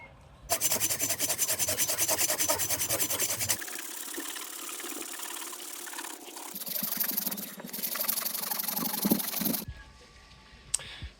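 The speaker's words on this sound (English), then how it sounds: "here's a look at me harvesting this wood with a handsaw" A handsaw cuts through hard guava wood with rapid rasping back-and-forth strokes, close and loud, pausing and resuming before stopping near the end.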